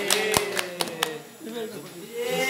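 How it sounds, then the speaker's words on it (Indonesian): A few sharp, sparse hand claps at a small school physics project presentation, followed by voices talking and calling out, the clapping brief and close. "Tepuk tangan."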